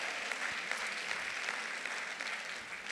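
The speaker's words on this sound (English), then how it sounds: "Can we please give our wonderful plenary a round of applause?" A conference audience claps steadily for a plenary panel on visionary women, a dense, even wash of many hands that holds at one level throughout.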